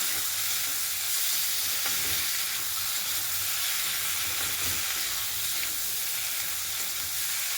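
Tomato, ginger and garlic fry in a pan over low heat while being stirred, giving a loud, unbroken hiss and sizzle that holds for the whole stretch, with faint scraping from the stirring underneath.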